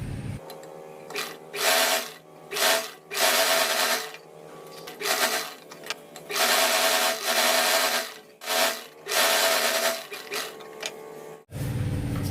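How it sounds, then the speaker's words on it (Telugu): A sewing machine stitches the hem of Punjabi dress pants in repeated bursts of close, loud whirring, separated by brief pauses as the fabric is turned. "నేనైతే ఇప్పుడు 2 కుట్లు వేస్తున్నాను."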